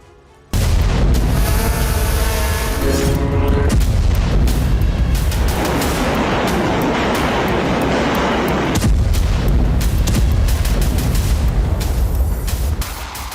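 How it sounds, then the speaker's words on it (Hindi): Explosions during a drone attack on a fuel tanker train, a sudden loud blast followed by sustained roaring, crackling rumble and repeated heavy booms that fill the whole stretch without any talking. "हमले के दौरान कई विस्फोट भी हुए।"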